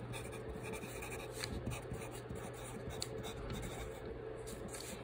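A pen scratches steadily across paper during handwriting practice, writing out a city, state and zip code; soft, continuous close-up strokes over a quiet room hum, with no talking.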